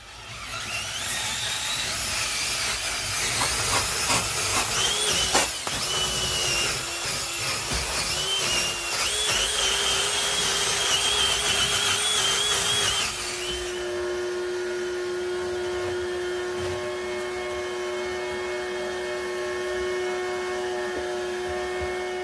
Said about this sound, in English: I unfortunately have to grind all this little fabric adhesive stuff off.